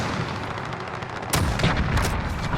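Gunfire in Call of Duty: Modern Warfare, a low rumbling backdrop that breaks into sharp close shots and bursts midway, loud with no voices.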